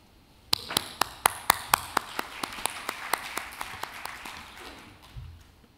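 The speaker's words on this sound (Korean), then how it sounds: "여러분 큰 박수로 맞이해 주시길 바랍니다." Audience at the opening ceremony of the DMZ peace economy international forum welcoming a speaker to the podium, a series of sharp, evenly spaced claps ringing out over a softer bed of scattered applause that fades near the end.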